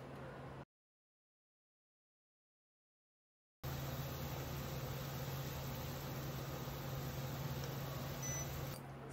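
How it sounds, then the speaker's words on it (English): An immersion blender whirs steadily while blending zucchini and spinach soup, a continuous motor hum that stops for a few seconds, then resumes just as steadily. "use this amazing tool, the immersion blender,"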